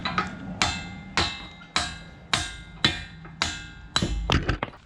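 Hammer blows drive moderately corroded greasable pins out of a silage grab: about nine sharp metallic strikes land at a steady, roughly half-second rhythm, loud and close with no talk.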